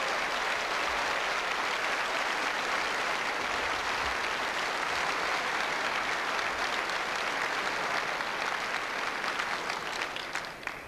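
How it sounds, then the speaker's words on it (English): Sustained applause from a large crowd at a professional indoor bowls tournament, greeting a superb delivery; dense, steady clapping fills the whole stretch, fading slightly at the end. "Massive applause for an absolutely superb delivery then by Noel Burrows."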